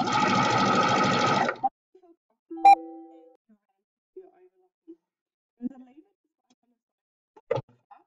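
Overlocker sewing machine stitching practice fabric, a loud steady whir lasting about a second and a half before stopping, followed by a few light clicks and handling knocks of the machine and fabric.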